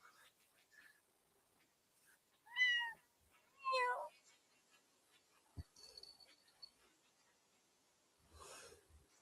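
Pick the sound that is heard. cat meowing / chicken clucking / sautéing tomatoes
cat meowing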